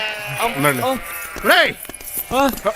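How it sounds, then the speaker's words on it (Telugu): Sheep bleat several times in quick succession, wavering calls sounding close and fairly loud within a comedy film scene, with a voice heard alongside them. "గొర్రెలు"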